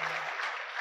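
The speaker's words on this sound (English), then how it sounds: "Another round of applause for Mr." Applause from a seminar audience, a dense, steady wash of clapping that fills the whole moment without a break, heard from within the room.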